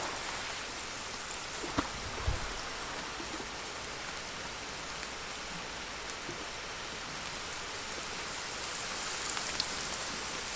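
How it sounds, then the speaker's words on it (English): Steady rainfall in the survival video game The Forest, falling near Cannibal Beach as an even, hissing wash of drops with a few soft thumps. It keeps up at a moderate level throughout, with no voices. "Of course it's raining."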